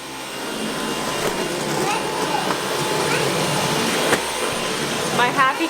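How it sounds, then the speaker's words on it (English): A household vacuum cleaner given as a Christmas present drones steadily and loudly throughout, a continuous broadband whir with a voice faintly under it. "I am such a good husband to get you a vacuum."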